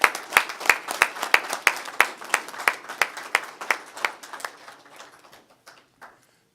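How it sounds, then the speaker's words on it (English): A small committee meeting audience applauds with a short burst of crisp, closely spaced claps from a few people, fading steadily into sparse final claps and silence. "Have a round of applause."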